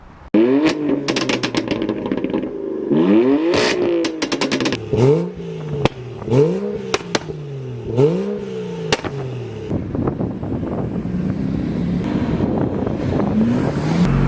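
BMW S55 M4 F82 stage 1 automatic and BMW N55 335i F30 manual with stock turbo in a roll race, engines roaring loud and close through repeated rising gear pulls and shifts, then fading to a lower rumble.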